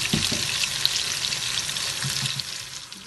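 Continuous hissing sizzle of meat browning in a hot pan for beef pulao, steady and close, with faint crackles and soft scraping, no talk.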